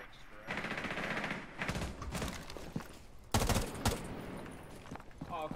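Automatic gunfire in Rainbow Six Siege, several rapid bursts of close, sharp shots separated by short pauses, with a voice talking briefly between them.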